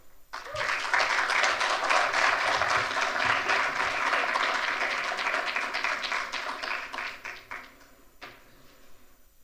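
An audience at an engineers' debate applauds a speaker, the clapping rising quickly, holding steady and dense, then thinning and fading toward the end.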